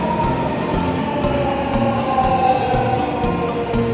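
A train pulls into a platform at a Japanese station, a continuous loud rumble with tonal squeal and hum from wheels and motors, steady and close without pauses.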